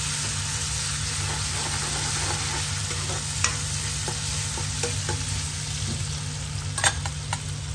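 Ginger-garlic paste sautéing in hot oil, a steady close sizzle and frying hiss with occasional light clicks of stirring.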